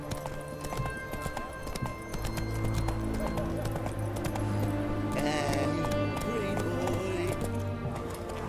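Horse hooves clip-clop at a gallop in The Witcher 3, a steady rhythmic pounding under game music and ambient effects, with a voice talking over it.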